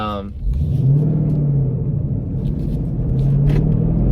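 A 2014 Ford Mustang GT driven gently with a low tire pressure warning produces a steady, low engine rumble that swells slightly now and then as it cruises along.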